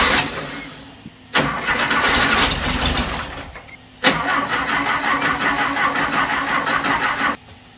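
A 1968 Porsche 912 engine cranks, catches and runs for a few seconds, drops off, then is cranked again and fires into a second steady run before shutting off, loud and close with no talk.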